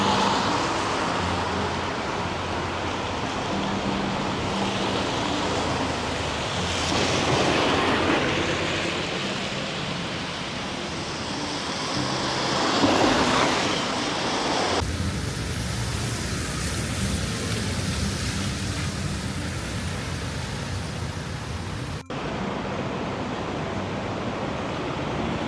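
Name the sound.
rain falling on a street in Chiang Mai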